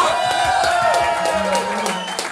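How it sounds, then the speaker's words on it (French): Concert audience at a fanfare brass band show in Vienna cheers and claps, crowd noise with whoops and a sustained musical tone fading near the end, with some voices mixed in. "On applaudit bien fort."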